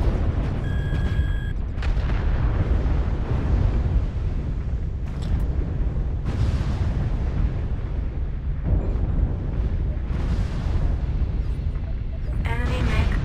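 Mech explosions in MechWarrior Online amid missile, laser and autocannon combat: a continuous roaring, rumbling barrage with several heavier booms and bursts standing out, loud and close throughout.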